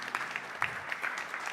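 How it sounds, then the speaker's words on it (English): Congregation applause at a Sunday service in a Krishna temple, a short burst of scattered, distinct hand claps from a small group, fairly quiet and uneven in rhythm. "Give her a round of applause."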